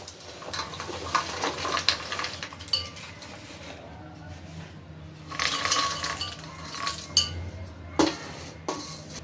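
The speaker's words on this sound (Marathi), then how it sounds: "त्यात आपण तळून घेतलेले शेंगदाणे, काजू, मिरच्या आणि कढीपत्ता त्यात घालणार आहोत." Fried peanuts, cashews, green chillies and curry leaves go into a pan with light metallic clinks, scrapes and rattles of a spoon against cookware, fairly quiet and close with no talking.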